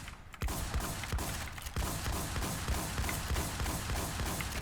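Rapid gunfire from a shooting video game, dense repeated shots and mechanical clatter running steadily throughout at full loudness after a brief quieter start.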